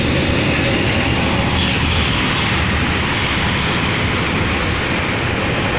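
Airplanes at an airport's Terminal 2 make a steady, loud, broadband jet roar that holds unbroken throughout, with no talk.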